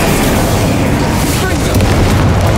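An Incendio fire spell is cast in Hogwarts Legacy with a loud, roaring burst of flame and explosive whoosh that fills the whole brief moment. A voice is faintly present underneath.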